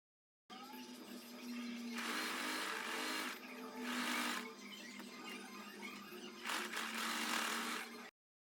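A domestic sewing machine stitching fabric for a salwar, running in steady whirring bursts of roughly a second or two with short pauses between, fairly close and alone with no talk.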